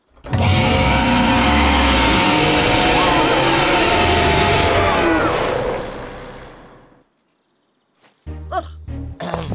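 Toy Triceratops dinosaur in a toy factory letting out a long, loud, roaring mechanical blast for several seconds that fades away, followed by brief voices reacting.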